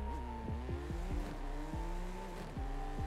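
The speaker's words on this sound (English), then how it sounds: "You hit that shift right, you get that smooth shifting." A 2021 BMW M4 Competition drag-tuned to 930 hp in Forza Horizon 5 revs hard through a rapid run of upshifts, its engine note climbing and dropping sharply with each gear change, loud and continuous with no talk.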